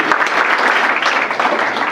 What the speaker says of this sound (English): let's give a big round of applause for Austin